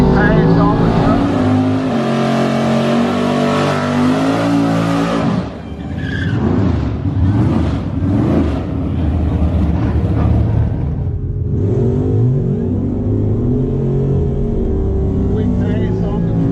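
A truck making a quick pass down an eighth-mile drag strip, its engine roaring loudly and steadily, then rising through gear changes with sweeping pitch as it pulls away, close and dominant throughout.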